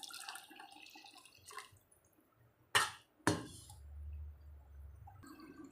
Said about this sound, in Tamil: கரைச்சி புளியை ஊற்றிடுவோம்.